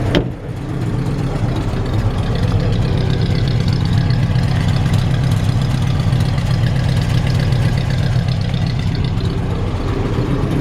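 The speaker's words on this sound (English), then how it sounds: "Pop this hood and let you hear the engine." A 1955 Ford F-100 pickup truck engine idles steadily with the hood open for the whole stretch, a continuous low rumble with an even, throbbing rhythm and no voices.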